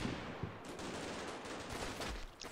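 Mark 19 grenade launcher fire in the video game Combat Mission Shock Force 2, a dense rolling barrage of muffled thumps and blasts that runs continuously at a steady, moderately loud level with no voices.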